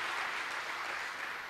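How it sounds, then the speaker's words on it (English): A church congregation claps together during a sermon, a soft, steady spread of many hands heard from a distance, faint and continuous for a brief moment with no voices over it. "Shall we clap for Jesus?"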